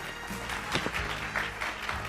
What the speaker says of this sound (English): another round of applause for our latest inductee, Shaylee Lenning